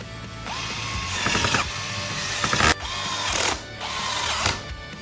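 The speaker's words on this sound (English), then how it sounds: "Insert it and fix the screws on both sides." Small screws are driven into the chassis of a UD1002P RC model during assembly, heard as close ratcheting, clicking bursts of a screwdriver working in several separate spells with brief gaps between them.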